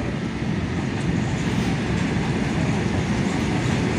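Train running on a railway line near Kulgachia on the South Eastern route out of Howrah, a loud, steady rumble with a continuous wheel roar throughout, heard from close on board or beside the track.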